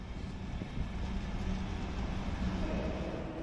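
A Finnish VR SM4 commuter train gives a steady, heavy rumble that stays level and continuous throughout, with no voices.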